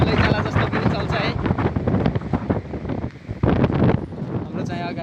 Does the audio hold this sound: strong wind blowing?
yes